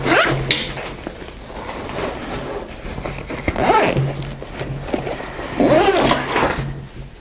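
Zippers on a 5.11 Rush 72 backpack are pulled open in a few rasping strokes, close and fairly loud, with a steady low hum underneath and no talking.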